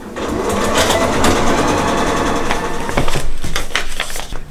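A sewing machine stitches foundation paper piecing in a continuous fast mechanical whir with rapid needle clatter, close and loud, slowing and stuttering near the end.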